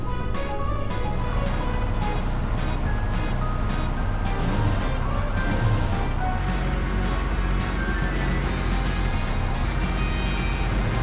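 A vehicle drives steadily in the PAW Patrol rescue game, its engine drone and rolling hum continuous and loud throughout, layered with bright game music tones and occasional beeps.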